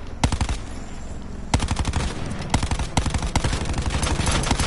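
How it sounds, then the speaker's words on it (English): Rapid automatic gunfire in Call of Duty Black Ops 4 as a player shoots a teammate, loud dense bursts of shots in quick succession with short breaks between volleys, no voices. "Shooting the fuck out of my own guy."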